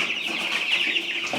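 Backyard chickens leaving their coop on a farm, with soft clucking and murmuring calls close by over a steady background hiss and no talking.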